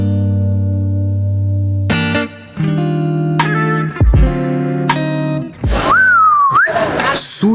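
A whistle signals the start of an evening out during a trip to Rome, with sustained musical tones, a bright gliding whistle near the end and loud electronic-sounding effects throughout.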